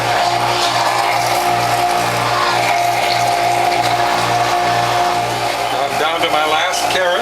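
Carrots are pushed through a WHF juicer fitted with a blowback cutter and a number 2 grid with 1/8 inch holes, giving a loud mechanical grinding with a pulsing rhythmic churn and rattling bursts near the end, close by with no talk.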